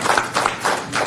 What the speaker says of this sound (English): Round of applause for our new Commissioner.